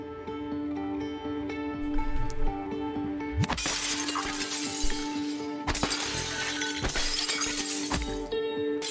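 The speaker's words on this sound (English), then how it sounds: "When in doubt, break through the TV." Glass of a TV screen shattering in the sci-fi video game Prey, a loud crash of breaking glass followed by scattered tinkling debris and a second burst of shattering, over background game music.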